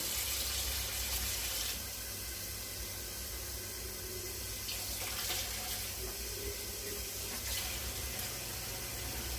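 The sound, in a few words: water poured into an oven tray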